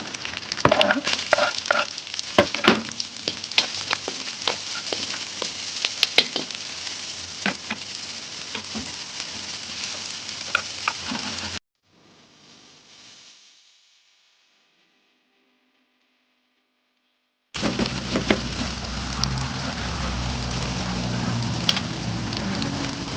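Onion tipped into a pan of browned meat for kharcho sizzles and crackles up close with stirring clatter, then drops to near silence before a steady, softer frying hiss resumes.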